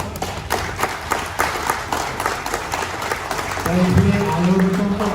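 Audience at a gathering clapping together in a loose, scattered burst of applause, with a voice rising over the claps toward the end.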